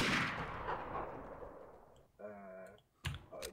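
Explosions and gunfire in the video game Garry's Mod Trouble in Terrorist Town: a loud blast opens, decays into a long rumble, then sharper bursts follow near the end.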